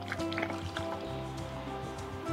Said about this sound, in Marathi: यामध्ये घालते मी गरम पाणी।